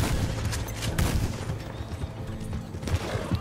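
Gunfire in Red Dead Redemption 2, a rapid exchange of loud shots with booming reports and overlapping blasts packed across a few seconds, without talk.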